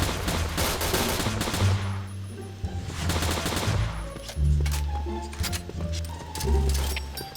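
Gunfire in a free-for-all shooter video game: bursts of rapid automatic shots and heavy booming reports come close and loud, with game music and a player's excited talk running underneath.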